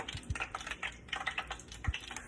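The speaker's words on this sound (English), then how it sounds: "I hear this pot popping." Chicken frying in a pot of hot oil in a home kitchen, with sharp irregular pops and crackles of spitting oil close by, several brief low thumps among them, and no talking.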